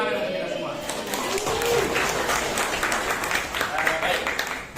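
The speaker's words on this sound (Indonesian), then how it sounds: "Tepuk tangan untuk kita semua." A room of students claps steadily in a scattered patter that holds for a few seconds before tapering off, with voices mixed in underneath.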